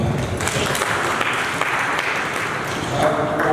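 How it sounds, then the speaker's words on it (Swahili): Steady applause from a group fills the whole stretch, a continuous even patter of clapping with voices mixed in. "Hapo basi tujipigia makofi."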